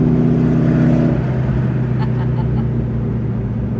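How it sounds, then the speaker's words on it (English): A 1970 AMC AMX SS race car tribute drones loudly nearby with its exhaust dumps open, an open, rumbling exhaust, its pitch shifting as the throttle changes, with some talk underneath. "So now we're running with the exhaust dumps open, and we'll slow down a little bit and give it some gas"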